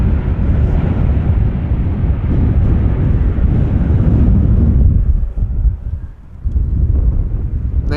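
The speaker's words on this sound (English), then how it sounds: "The wind is definitely not slowing down yet." Strong wind buffets the microphone at Amsterdam Schiphol Airport, a loud continuous low rumble and roar that drops briefly near the end, then returns.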